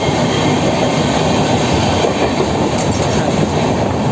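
Loud, steady rumble and rhythmic wheel clatter aboard the Dhauli Express, a Shalimar to Puri train, as it runs through Kolaghat station, with faint squeals rising over the constant roar.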